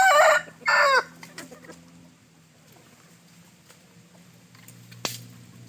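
A young Pa Koi rooster, seven to eight months old, crows loudly nearby in two strong bursts, followed by quiet background clucks and a sharp knock near the end.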